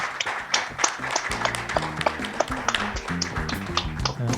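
A symposium audience on budget policy gives scattered, fairly close claps at the session's end, individual hand claps popping irregularly over a background of music.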